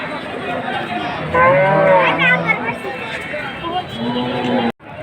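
Cattle at a busy rural livestock market moo loudly and close by, one long drawn-out call in the middle and another shorter one near the end, over a background of crowd chatter.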